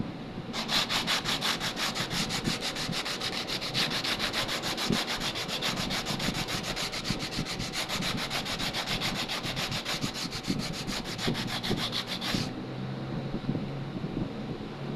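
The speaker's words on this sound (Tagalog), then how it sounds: "Para magiging diretso siya, kailangan po lihain. Lilihain po natin." Sandpaper rubbed back and forth over a piece of wood to smooth an uneven surface, a steady, loud rasping scrape that runs continuously for most of the stretch, close up with no talking.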